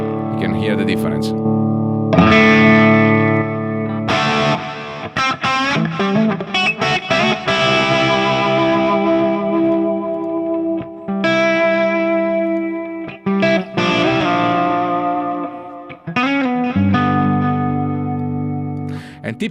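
Electric guitar played through a Fractal effects unit preset, distorted with chorus, reverb and echo, sounding loud and sustained in chords and riffs with short gaps between phrases.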